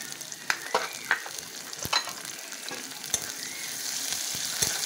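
Chopped onion dropped into hot oil with black cumin seeds sizzles steadily, with sharp crackles and scattered spatula clinks and stirring scrapes throughout, no talking.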